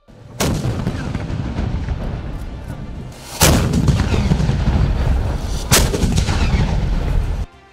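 Firecrackers used as ceremonial cannon fire at a Mysuru Dasara procession rehearsal go off in three loud, sharp booms several seconds apart, each followed by a long rolling rumble outdoors.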